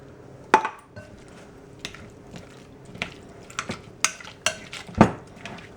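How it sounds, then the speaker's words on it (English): Dill pickle dip ingredients stirred together in a bowl, with a series of separate scraping clinks and knocks of a utensil against the bowl at an irregular pace, close and fairly clear, with no talking. "you're basically just going to stir everything together"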